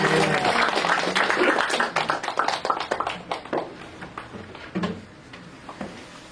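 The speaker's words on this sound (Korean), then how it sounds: "하나님께 영광이 박수 올려드리십시오" A church congregation at a winter spiritual retreat for teachers breaks into rapid, crowded clapping that thins out into scattered claps and fades over several seconds.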